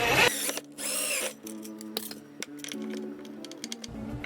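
A power drill drives a screw into a small bracket holding an under-cabinet LED light bar, whirring in short bursts with pauses and clicks between, close and fairly loud, with no talking.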